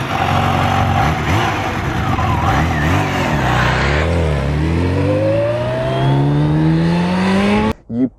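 A Kawasaki Ninja H2 motorcycle, rated at 240 horsepower, accelerates hard, its engine note climbing through several rising gear sweeps, loud and close, before cutting off abruptly at the end.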